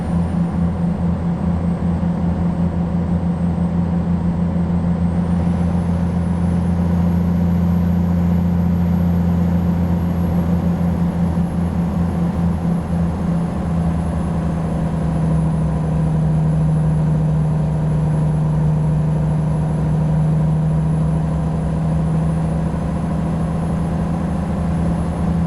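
Volvo truck engine in American Truck Simulator runs steadily and loud throughout, a deep droning rumble that holds near constant with a slight shift partway through, with no talk over it.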